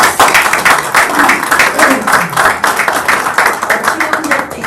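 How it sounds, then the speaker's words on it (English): A crowd at a county commissioners meeting claps loudly and close by. Quick hand claps pile into a continuous burst, with some voices mixed in. "So how about a round of applause?"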